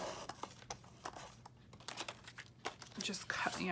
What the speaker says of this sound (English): just cut around the words with my scissors